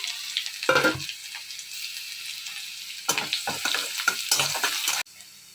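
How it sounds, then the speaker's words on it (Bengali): Radhuni seeds tempering in hot oil with garlic, sizzling loudly in two bursts, each broken by stirring clatter and crackle, with a steady hiss between the bursts and a sudden quieter tail at the end. "সেই জন্য তো রাঁধুনি ফোড়ন দিয়ে দিচ্ছি আমি"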